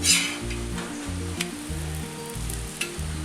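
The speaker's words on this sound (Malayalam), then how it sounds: "അതിൻ്റെ മുകളിലേക്ക് പരത്തി വെച്ചേക്കുന്ന പൊറോട്ട ഇട്ട് കൊടുക്കാം" An aloo paratha cooks on a hot tawa with a continuous crackling sizzle and a few light scrapes of a turner, close and steady, while a rhythmic low hum pulses beneath it and no one speaks.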